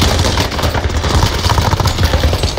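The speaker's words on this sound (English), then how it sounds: "Under hostile fire." Video game gunfire, dense rapid bursts of shots rattling loud and close throughout without a break.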